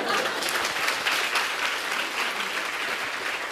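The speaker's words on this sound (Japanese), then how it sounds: "じゃあ彼女に大きな拍手をしよう。" Steady, dense applause from an audience at a seminar speech, even and continuous with no talking over it.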